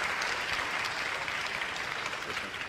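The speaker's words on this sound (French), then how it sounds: "On vous applaudit." An audience at a regional award ceremony claps steadily throughout, a dense, even wash of applause from many hands filling the room at moderate volume, with no speech over it.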